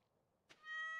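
A cat in Stardew Valley gives a single clear meow after a brief soft tap, the tone rising and holding for about half a second, close and alone.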